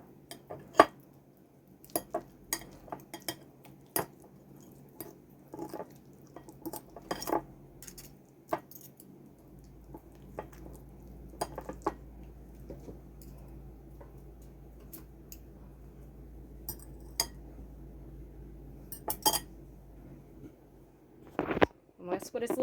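A utensil scrapes and taps sticky chicken sauce out of a bowl during air-fryer cooking, giving a string of sharp clinks and scrapes at uneven intervals, with a voice talking in places.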